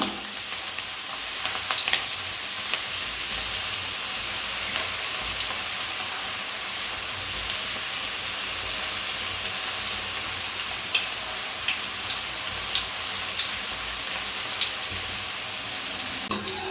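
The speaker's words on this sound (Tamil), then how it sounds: "இப்போ வந்து பக்கோடாவை குட்டி குட்டியாக இது போல் போட்டுக்கலாம்." Small pieces of cabbage pakoda deep-frying in hot oil, a loud, even, close-up bubbling sizzle that runs without a break, with faint crackles throughout.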